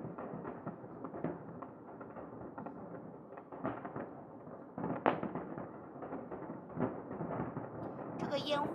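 New Year fireworks pop and crackle at a distance in repeated bursts, one sharper bang standing out, mixed under a busy crowd murmur and nearby chatter.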